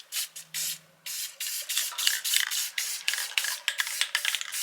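Aerosol can of white paint sprayed onto a gauge face to brighten a corner, heard as a series of close hissing bursts, some short and some sustained, separated by brief pauses.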